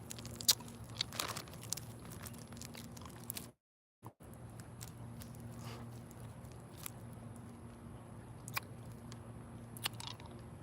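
Close, crisp crunches and chewing of extremely spicy Takis chips, irregular bites scattered over a low background hum, broken by a brief cut to silence; no speech.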